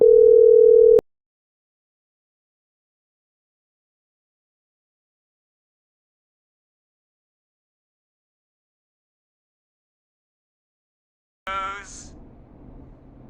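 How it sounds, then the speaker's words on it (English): Brief steady telephone dial tone at the start of a callback in the game Killer Frequency, about a second long, then long silence before a faint ring or voice returns near the end. "we're calling back one of our earlier callers, Virginia Sullivan"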